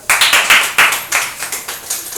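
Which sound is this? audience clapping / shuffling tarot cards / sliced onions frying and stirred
audience clapping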